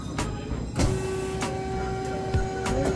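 A cutting machine slices round solid steel stock for threaded spindles, giving a steady, close mechanical whine with a sustained tone and a few sharp clanks and knocks.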